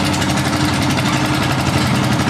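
A Cub Cadet small tractor engine idles close by with a steady, throbbing putter and faint vibration, running continuously without change, at a tractor show.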